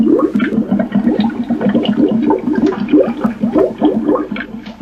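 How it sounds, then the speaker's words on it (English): Re-recorded bubbling water noises loop at different speeds, producing a steady stream of overlapping gurgles and pops that runs loud and continuous with no voices. "Soon there'll be enough bubble noises at different frequencies to play a tune."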